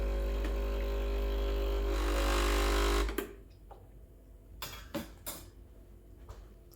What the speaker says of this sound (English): Press the double. This will rinse the group head and the basket.